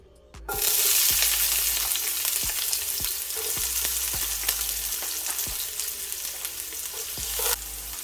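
Chopped onion hits hot oil in a pan for a pak choi dish, giving a loud, steady sizzle and crackle close up that persists throughout with occasional stirring.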